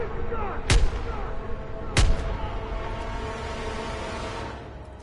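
Two heavy, sharp gunshots in the Call of Duty: WWII video game, about a second apart, each followed by a rolling echo over a low battle background.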